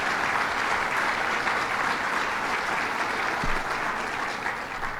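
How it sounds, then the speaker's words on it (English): Sustained audience applause at a New York State transportation funding announcement, steady and dense for the whole stretch, a crowd clapping together at even loudness. "let's give a big round of applause for all her good work"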